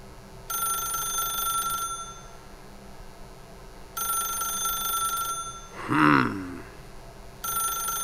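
Telephone in The Stanley Parable video game rings in repeated electronic bursts, each about a second and a half long with short pauses between them, loud and close, with a brief higher sound in one gap.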